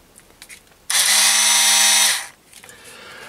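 A cordless screwdriver with a rare earth magnet stuck on its tip spins up sharply, whirring loud and close at a steady pitch for just over a second before winding down, with faint handling clicks before and after.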